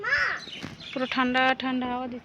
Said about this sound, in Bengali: এই দেখো পাখি ডাকে, তোমরা কি বুঝতে পারছো?